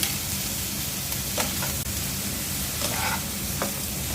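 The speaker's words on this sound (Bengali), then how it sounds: "দিয়ে দিচ্ছি চিংড়ি মাছের মাথা আর কয়েকটা চিংড়ি মাছ" Prawn heads and a few prawns sizzle in a pan after salt goes in, a dense, even frying hiss with a few brief stirring scrapes near the middle and end.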